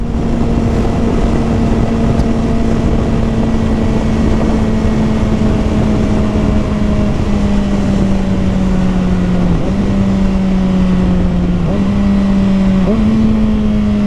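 A 2021 Kawasaki Ninja ZX-6R sport motorcycle with an M4 Street Slayer slip-on exhaust drones loudly and steadily up close, its pitch holding then dipping and rising through gear changes as it rides.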